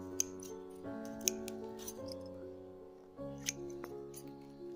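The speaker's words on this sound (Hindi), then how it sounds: "जितनी भी रूट काटने की ज़रूरत हो आप काट दें" Scissors snip through bonsai roots with a few faint, sharp clicks scattered over a soft, steady musical background.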